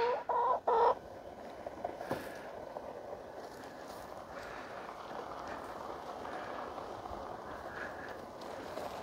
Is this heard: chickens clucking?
yes